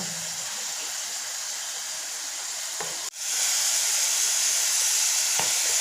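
Mushrooms sauté in a hot pan with a steady, close sizzling hiss that briefly dips once midway and then returns slightly louder.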